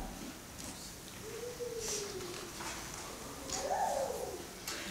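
Birds call out in the woods in a storybook sound effect, soft cooing and rising squawk-like calls over a hissing background, moderately near with no talk.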